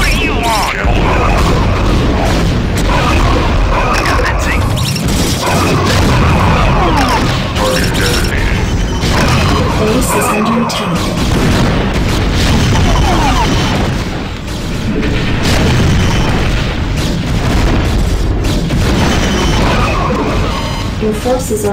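Explosions and heavy weapon fire from a Terran versus Protoss battle in StarCraft: dense booms and crashes run continuously and loud for the whole stretch, with game unit voice lines mixed in.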